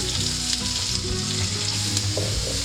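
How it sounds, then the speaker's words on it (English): Onions fry in olive oil in a pan for a slow-cooked ragu, a dense continuous sizzle close up with faint stirring knocks underneath and no voices. "Add the remaining olive oil straight in there like that. We're going to go straight in with our onions."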